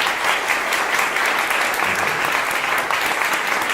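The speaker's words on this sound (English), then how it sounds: "So can I have a round of applause for Wyn?" A gathering at Sneaton Castle in Whitby breaks into a steady round of applause, a dense continuous patter of many hands at even volume from start to finish.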